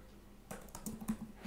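Code is typed on a computer keyboard in a quiet room: after a brief silence comes a short, quick flurry of light key clicks, close and fairly soft.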